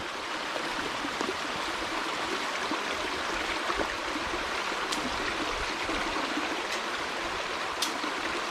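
Stream water rushes and trickles steadily nearby in a continuous broadband wash, with an occasional faint high splash breaking through the constant flow.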